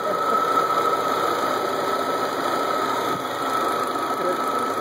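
A steady mechanical Audi V8 engine idling hum runs throughout with a constant whine and faint rattling vibration, close by and unchanging.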